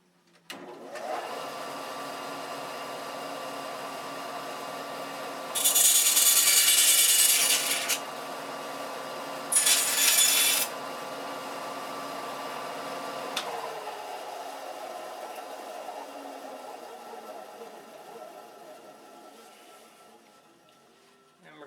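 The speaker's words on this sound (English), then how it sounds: "Now we're going to cut the tail post to length" A power saw cuts a wooden tail post to length during a boat build, a steady whining hum running for about twenty seconds with two louder rasping bursts partway through as the blade bites, then trailing off.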